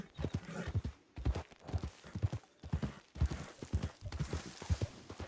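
Rhythmic hoofbeats of a horse galloping in Red Dead Redemption 2, steady thudding clip-clop repeating close by with no talking over it.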